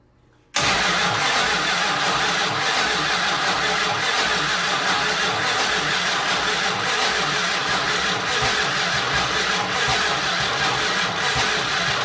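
An abandoned barn-find Monaco car engine, sitting for 36 years, cranks abruptly to life after a brief silence and keeps up a loud, steady, rough churning drone close by throughout.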